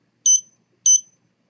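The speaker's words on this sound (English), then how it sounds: "every time I get a beep" Two identical short electronic beeps from a distance-sensing proximity buzzer, spaced about half a second apart, bright and clean with silence between and no talk.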